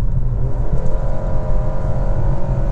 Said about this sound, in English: go to the eco driving mode and floor the accelerator again